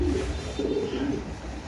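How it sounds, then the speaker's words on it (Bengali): A pigeon coos nearby in a brief, low, throaty burst of two or three soft rolling notes over a light background hum. "এই যে মাশাআল্লাহ এটা কি কবুতর ভাই?"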